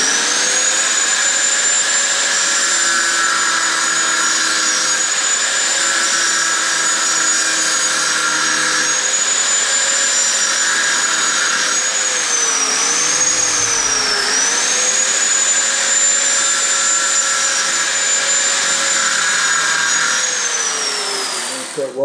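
A power tool whines steadily while cleaning up a weld on a fabricated Honda Z50R motorcycle exhaust made to fit a CRF50, a loud, sustained high-pitched grinding tone that dips briefly in pitch midway as the tool loads.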